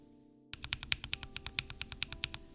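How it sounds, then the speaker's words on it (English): A lubed mechanical keyboard switch pressed over and over, producing a rapid, even train of deeper, smoother clacks that starts abruptly after a brief silence, close up and alone. "And you can hear that the M key is a lot deeper with a less scratchy sound signature."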